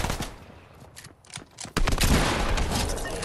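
Gunfire rattles in a Fortnite match: scattered shots at first, then a loud, continuous burst of rapid automatic fire that dominates the second half.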